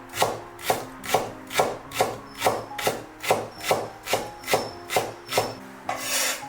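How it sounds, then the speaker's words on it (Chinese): A kitchen knife chops a split length of green onion into fine shreds on a board, about a dozen evenly spaced crisp cuts in a steady rhythm, close and clear with no talking. "准备1小节大葱，从中间破开，然后给它切成丝"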